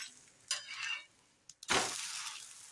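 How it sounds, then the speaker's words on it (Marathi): A bottle gourd thalipeet fries in oil in a pan, with soft hissing, a sharp clatter as it is flipped, then a louder, sustained sizzle. The sound is quiet and close, with no talking. "ह्या होलमध्ये सुद्धा असं थोडं थोडं तेल सोडायचं आहे, म्हणजे चांगलं असं खरपूस खुसखुशीत असं भाजलं जातं थालीपीठ."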